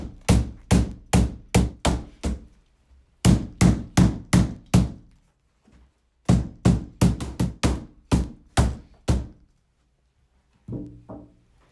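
Mallet knocking chicken cage frame parts together during assembly, bursts of four to seven loud, evenly spaced thunks separated by brief pauses, ending with a quieter rattle.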